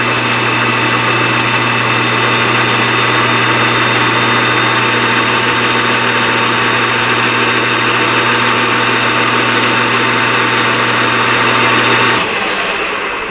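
A lathe turning down a piece of aluminum gives a loud, steady whirring drone with a constant tone, running unbroken and then shifting pitch near the end.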